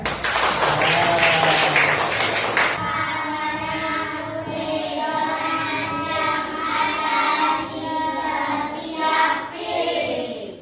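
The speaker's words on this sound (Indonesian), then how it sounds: "Kasih aplaus yang meriah" Loud applause from a classroom audience of teachers and students, a dense steady clatter of many hands clapping close by and sustained for about ten seconds after a brief burst of other noise at the start.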